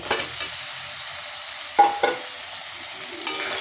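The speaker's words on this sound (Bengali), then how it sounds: "এবার আমি সেদ্ধ করা আলুটা দিয়ে দেব" Boiled potatoes go into spice paste frying in oil for a katla fish head curry, giving a steady close sizzle broken by a few sharp stirring clanks of a spoon against the pan.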